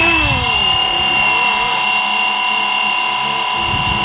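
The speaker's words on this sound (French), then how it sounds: "on voit que les moteurs s'activent" Multirotor motors of a FlyWing FW450 V3 drone spin up for takeoff, a loud steady whine with rising tonal harmonics that holds constant throughout and masks any other sound.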